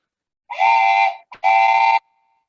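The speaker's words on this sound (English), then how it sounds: "it's a train whistle" An old train whistle blown outdoors in the woods gives two loud, sustained steady-pitched blasts with a short sputter between them, each blast lasting around half a second, with no talk.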